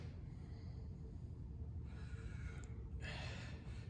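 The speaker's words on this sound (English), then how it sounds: "Take some deep breaths." Deep, audible breaths in and out during a lower-body Tabata fitness workout, quiet and close, with a couple of sharper inhales toward the end and no talk.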